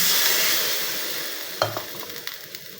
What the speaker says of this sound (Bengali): এবার দিলাম ঝোলের পানি।